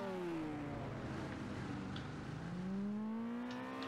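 Game car built with Chaos Vehicle in Unreal Engine accelerates, its engine tone rising steadily in pitch, falling back briefly and then climbing again, fairly quiet and steady with no talk.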